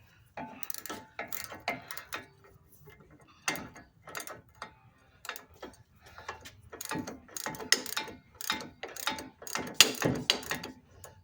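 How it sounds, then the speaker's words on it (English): A ratchet wrench tightens the ball joint nut on a 2008 Chevy Silverado control arm during a Rough Country lowering kit install, giving close, irregular bursts of clicking strokes with short pauses between. "now we can get the ball joint nut put back on there and tighten down"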